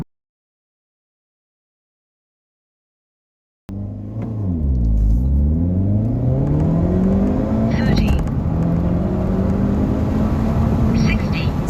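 Silence gives way to a Hyundai Elantra N launching hard, its engine rising sharply through quick upshifts in a stepped sweep of revs, then holding a loud, steady pull, close and dominant.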